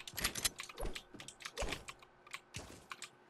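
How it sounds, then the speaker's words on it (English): Rapid clicks from a computer keyboard patter in an uneven stream, close but faint, with short gaps between bursts and no talking. "Stop clicking over there"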